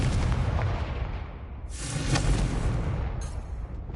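Confringo fire spell bursts in Hogwarts Legacy, booming explosive blasts with crackling tails, several impacts in quick succession at close range.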